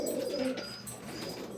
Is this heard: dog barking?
no